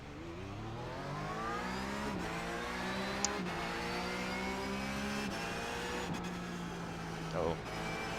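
Race car engines in a racing video game at the start of a 30-minute race, a dense pack droning and revving together with rising, shifting pitch and brief gear-change dips, continuous and fairly loud.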